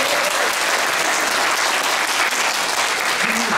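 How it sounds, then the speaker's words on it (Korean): An audience at a Korean economics keynote lecture breaks into dense, continuous applause that holds steady and loud from start to finish with no talk over it. "박수 좀 부탁드립니다."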